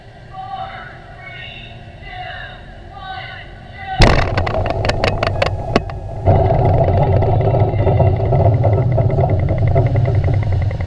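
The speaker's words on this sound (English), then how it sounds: "The ocean surface erupts in a towering burst as a shock trial explosion is carried out" Quiet ambient sound gives way to a sudden deep blast of an underwater shock trial explosion near a ship at sea, followed by sharp crackling bursts and then a heavy, rumbling roar that keeps going.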